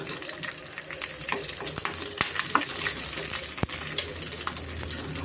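Garlic, ginger, onion and green chilli frying in a pan of oil for a sprouted horse gram sambar, a steady close sizzle with scattered stirring clicks and scrapes, no voices.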